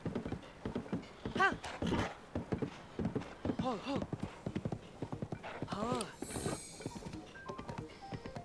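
Horse hooves clip-clop steadily on a bridge in the game Zelda: Tears of the Kingdom, with a brief whinny mixed in, a rhythmic run of close, moderately loud hoof beats under someone talking.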